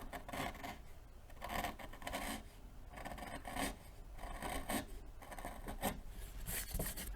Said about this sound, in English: let me sharpen my chisel first